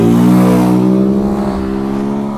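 A Honda Sahara 300 motorcycle engine revs loud and close, a strong harmonic drone that holds high and then slowly drops in pitch as it eases off.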